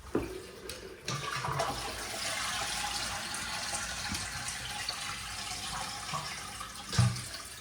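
Water gushes steadily from a repaired toilet in a continuous rushing, splashing flow that lasts several seconds, heard close up with a few knocks and a thump near the end.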